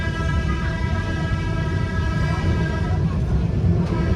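The Darjeeling toy train 52541 runs along the track beside the road near NJP to Darjeeling, a steady low rumble of wheels and carriages heard from nearby, with a faint horn-like tone.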